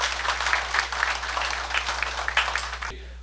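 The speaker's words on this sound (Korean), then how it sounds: "박수로 한번 서로 격려하시죠" Audience applause at a church debate on the WCC, a steady wash of clapping from a crowd that holds for about three seconds and then cuts off abruptly.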